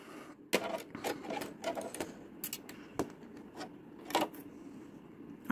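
Sewing machine stitching fabric precisely along a drawn line for a Tilda-style whale, with short bursts of rapid stitching broken by pauses and a few back-and-forth passes, close and moderately loud.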